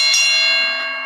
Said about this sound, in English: let's hit the Ali bell for my brother Troy, man.